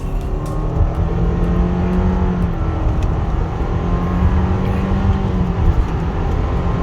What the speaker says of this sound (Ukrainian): Стартуємо від нуля до сотні.